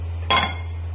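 A metal kadai wok lifted out in a kitchen gives one short bright clink, close and alone over a steady low hum.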